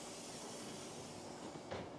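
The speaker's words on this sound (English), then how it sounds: "And that's what you wanna hear, that sizzle." Pizza dough sizzling on a hot pan inside a home oven, a steady broadband hiss with a soft crackle throughout, fairly loud and close, with no talking.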